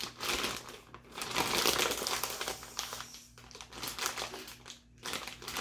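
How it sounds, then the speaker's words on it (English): Steak being squished around in marinade inside a Ziploc plastic bag gives a steady run of close crinkling and crumpling plastic with wet squelches, easing briefly before picking up again. "I'm going to put it into my Ziploc bag and I'm going to squish it around to make sure that it gets a really nice coating of marinade"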